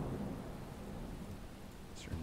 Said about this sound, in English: Oh, we've got rain coming.